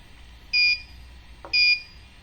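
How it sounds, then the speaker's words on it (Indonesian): Two short, high-pitched electronic beeps from an MQ-2 gas sensor alarm buzzer, about a second apart, clear and close against a quiet background. "Jadi seperti alarm, nyala alarm twing twing twing"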